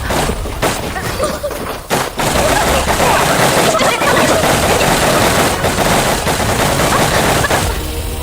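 Dense, loud burst of gunfire right after an order to fire in a Bangla-dubbed CID crime drama episode, a continuous fusillade with a few sharper shots near the start.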